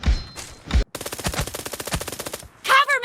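Gunfire in PUBG Mobile: a few heavy separate shots, then a fast, steady burst of rapid automatic fire, followed by another short loud blast near the end.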